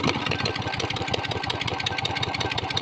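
A newly installed pump's small engine idles steadily and close by, a loud, even chugging drone with rapid regular pulses and no talk over it.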